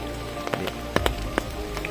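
Steady rain falls outdoors near a mango grove, a dense close hiss with scattered drop taps landing on surfaces, and no voices.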